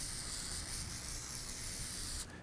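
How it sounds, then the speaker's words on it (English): A steady aerosol spray of cable lube hisses continuously for about two seconds onto a motorcycle handlebar, then stops abruptly. "I like to take a little bit of the cable lube and spray it onto the handlebar itself."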